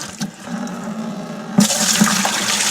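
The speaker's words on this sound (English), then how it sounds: "pour the contents into a bucket" Water pours from a filter housing into a bucket, starting as a faint trickle and then surging into a louder, splashing gush that continues close by.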